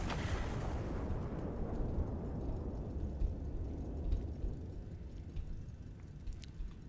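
A single artillery gun fires in the video game Iron Nest: one heavy blast right at the start, then a long rumbling decay with scattered faint crackles as it fades.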